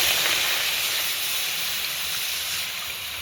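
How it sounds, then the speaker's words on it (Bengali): Water poured into a hot wok sizzles with a broad, steady steam hiss that fades slightly toward the end. "কড়াইটা গরম হয়ে গেছে, সবার প্রথমে দিয়ে দেবো জল।"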